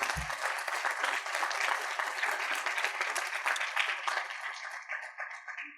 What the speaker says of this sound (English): So again, if we can give them a round of applause.